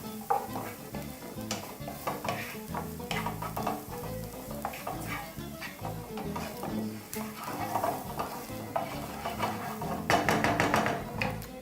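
A spoon scrapes and clinks around a pan as a mixture with cardamom powder is stirred over gentle sizzling, making steady close-up scraping and tapping with a busier burst near the end.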